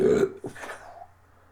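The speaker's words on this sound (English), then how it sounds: "that was a really impressive burp." A single loud, deliberate burp rolls out from a man on a podcast, a deep guttural belch that fades over about a second into quiet room tone, with no talking over it.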